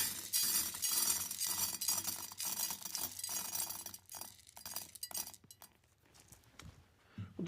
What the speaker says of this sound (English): We can load these up into the vase.